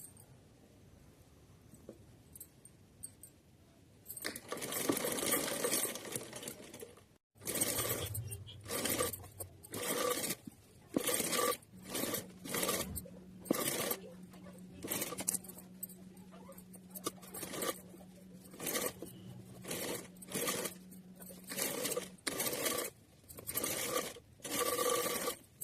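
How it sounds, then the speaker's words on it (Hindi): Sewing machine stitching fabric for a Laddu Gopal (Kanha ji) summer dress, heard in short rapid bursts with pauses between runs, moderately close, with light handling clatter and no talk. "तो चलिए सिलते हैं।"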